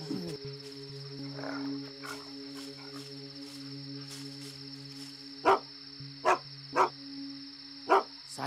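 A dog gives four sharp, evenly spaced barks at mid-distance near the end, set against a constant nighttime drone of crickets and frogs.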